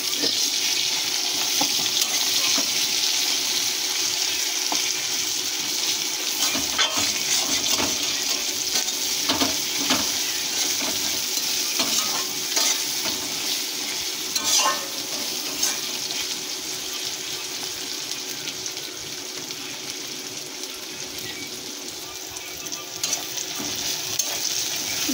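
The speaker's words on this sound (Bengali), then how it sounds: "পেঁয়াজগুলো ভাজা হয়ে গেছে লাল লাল করে" Chopped onions sizzle steadily in hot mustard oil left from frying tangra fish, with a spatula scraping and stirring through the pan now and then; the frying hiss is close, loud and continuous throughout.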